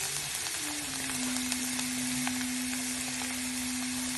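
Soft, steady sizzling of parsley frying in a pan with faint crackles, while a sustained musical tone plays in the background.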